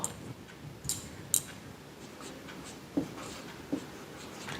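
A pen writes out a geometry proof on paper, giving soft, faint scratching strokes with a few light taps against a quiet background.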